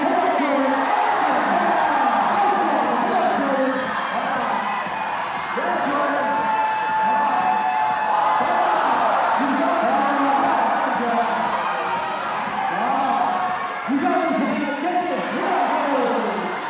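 A crowd at a bouldering competition final cheers and whoops steadily from a distance, a dense roar that holds for the whole stretch, with a commentator's voice talking over it.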